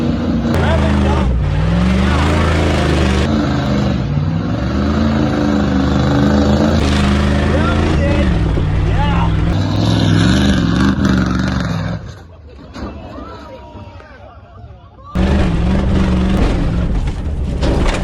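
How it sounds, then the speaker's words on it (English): A 1990 Ford 7.3 IDI diesel truck engine revs loudly and close, holding a rough roar that rises and falls, drops away briefly near the end, then surges back. People talk over it. "Rev it up."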